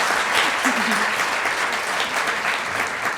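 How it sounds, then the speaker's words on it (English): Audience applause at a church moms' group gathering, steady dense clapping filling the whole stretch, with a faint voice briefly audible underneath. "Let's give them a round of applause for their yes."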